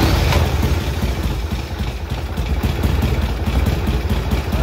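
A 1985 Harley-Davidson Sportster 1000 engine starts and runs loudly and steadily nearby, a rough, rumbling idle with mechanical clatter throughout.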